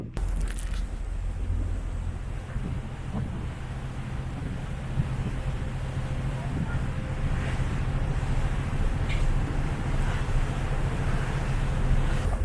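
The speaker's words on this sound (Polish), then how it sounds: "bo wieje tutaj i buja strasznie" Strong wind buffets the microphone outdoors on the Pacific coast, a steady loud roar with low rumble and surf-like wash running throughout, no voices.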